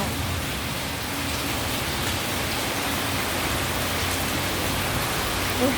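Heavy rain pours down steadily outside a flooding house in Thailand, a dense, loud, unbroken hiss with no pauses.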